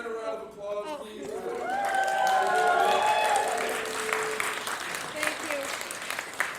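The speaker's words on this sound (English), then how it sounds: "Guys, can we give Brianna a round of applause, please?" Choir members at a city choir rehearsal give a round of applause that swells in the middle and tapers off, with some overlapping voices and cheering.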